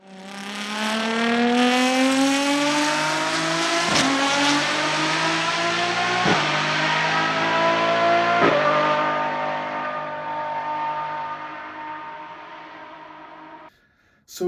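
A Lamborghini Essenza SCV12 V12 engine screams upward in pitch, with a few sharp gear-shift breaks, then fades before a brief cut at the end.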